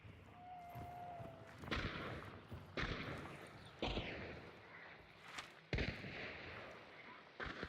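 Chaos bomb explosions in a video game, a run of sharp booming blasts about once a second with crackling tails, heard at moderate level, some closer and louder than others.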